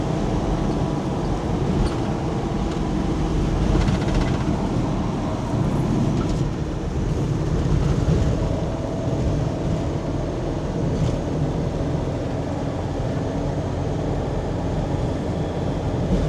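Inside a Mitsubishi Delica JB470 4x4 motorhome on the move, a dense steady engine and road drone fills the cabin with wind rush throughout, no voices.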